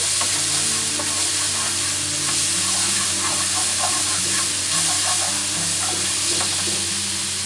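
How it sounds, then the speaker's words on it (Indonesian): Shrimp paste (terasi) frying in a spoonful or two of oil while being stirred, a loud, steady close sizzle with scattered scraping and crackling throughout. "lalu kita tumis sampai wangi"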